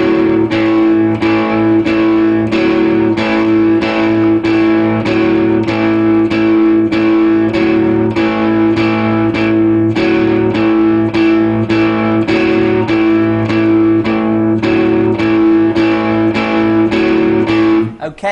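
Electric guitar chugging four bars of a rhythm, with a slightly overdriven tone and steady, evenly repeated strums that run close and loud the whole way, alone.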